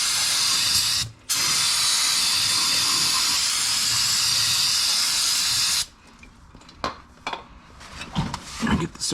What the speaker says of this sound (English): I'm just probably gonna take some brake part cleaner, just get off the little rest